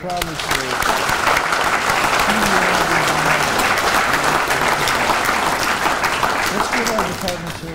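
A large audience at an Indiana American Legion meeting applauds their department service officer with loud, sustained clapping and cheering that runs strong throughout, while voices are audible under it.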